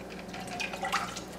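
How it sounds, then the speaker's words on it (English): One cup of water pours into a pan for pink candy apple syrup, a soft close trickling and splashing that lasts a moment. "So I'm going to go ahead and add in my 1 cup of water."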